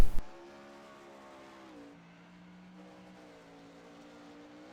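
410 winged sprint cars race at Lanier in a video game, a sharp burst at the start giving way to a steady, moderately loud engine drone whose pitch shifts as the cars run, with no talking.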